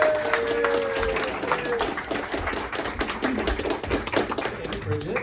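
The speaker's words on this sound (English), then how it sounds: "you can just give it up and clap for Jacob Clapp" An audience at a Seattle comedy show claps for a comedian taking the stage, with a steady patter of hand claps and some voices mixed in.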